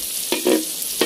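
Pancit noodles hiss and sizzle in a hot pan while being stir-fried, with a few quick scraping stirs breaking through the steady frying noise, close up and with no voices.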